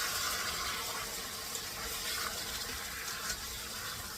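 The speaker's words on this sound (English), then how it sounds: "We're going to let them simmer just a little bit." Canned peaches simmering in a pot on the stove, a soft continuous bubbling and watery hiss, faint and steady with small pops, no one talking.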